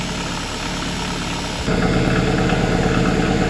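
A Kubota backhoe tractor diesel engine idles just after a cold start. A steady knocking rumble sits close to the microphone and grows louder and rougher partway through.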